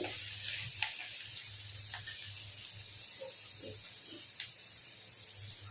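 Ginger, garlic and onions frying in a pan give a steady, fairly quiet sizzling hiss with scattered light pops and ticks of stirring, heard alone without talk.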